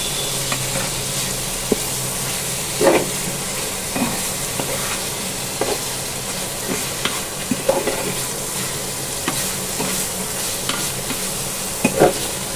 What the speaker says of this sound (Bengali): মশলার সাথে টমেটোটা ভালো করে কষিয়ে নিব